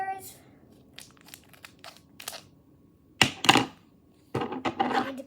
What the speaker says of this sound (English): I need to cut a little more.